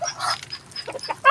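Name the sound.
duck quacking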